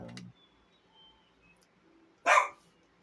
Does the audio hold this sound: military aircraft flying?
no